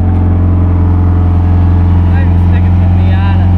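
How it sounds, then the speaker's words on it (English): A Mazda Miata engine idling steadily at close range during a manual stick-shift lesson, a constant low rumble with a faint voice over it. "Driving stick in the Miata."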